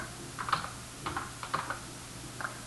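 Keys clatter on a computer keyboard as text is entered into a spreadsheet cell, in short uneven bursts of clicks, close and fairly quiet, with no voices.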